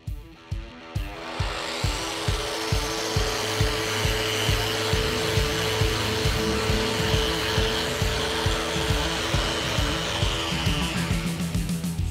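A power sander works body filler on a 1973 Dodge Challenger, a continuous whirring drone with rhythmic pulsing strokes as the pad moves back and forth, steady and close with no talking.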